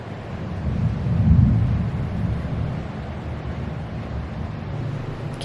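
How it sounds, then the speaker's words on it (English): Thunder rolls in from a storm over the beach, a low rumble that swells around the second second and then fades to a steady, wind-tinged murmur. "Can y'all hear this thunder?"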